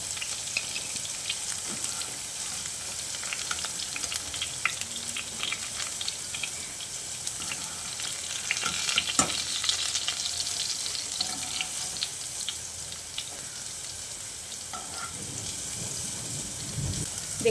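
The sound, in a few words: potatoes frying in oil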